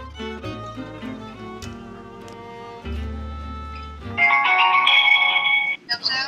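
A telephone rings during a call placed to a mother from the Dong-Daegu express bus terminal. A bright electronic ring tone swells above busy tonal background sound, with voices present.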